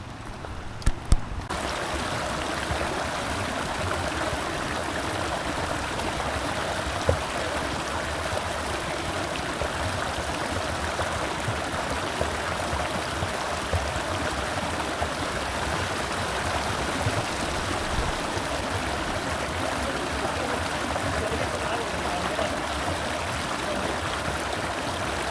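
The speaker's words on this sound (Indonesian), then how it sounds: "di depan kita ada sungai kecil ya, jernih sekali. Tapi sepertinya ini mengandung belerang ya" A small, clear, warm sulfurous stream on Mount Papandayan in Garut flows steadily and close by, a constant rushing babble filling the whole stretch without talk.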